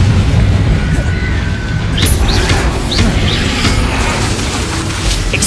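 Confringo explosive spell cast in the Hogwarts Legacy video game, heard as a loud booming burst amid continuous dense combat noise, with sharp crashing hits recurring every second or so.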